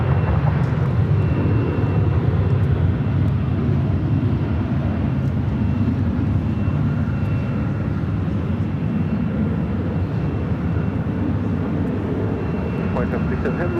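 A heavy triple-seven airliner on final approach to runway 24 right at LAX, its engines making a steady low roar that holds throughout at a constant level.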